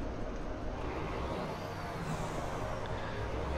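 The engine of an International 9800 High Roof truck in American Truck Simulator, heard from the exterior view, a steady low diesel drone at moderate level that holds throughout.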